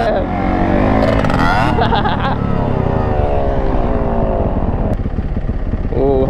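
Two-stroke three-wheeler engine revving hard as it rides, a loud, continuous buzzing drone that rises and falls in pitch through repeated rev changes, with people talking excitedly over it.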